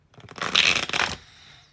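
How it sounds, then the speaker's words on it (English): Tarot cards are shuffled in one quick riffle lasting about a second, a crisp papery flutter close to the microphone that ends abruptly and leaves near silence. "That was not a good shuffle."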